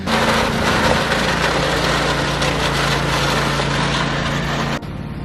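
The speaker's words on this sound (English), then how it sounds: "mind the tractor sound in the background. We're cutting lawn as well." A lawn tractor mowing grass at a house garden gives a loud, steady engine drone with a constant low hum throughout, then cuts off abruptly near the end.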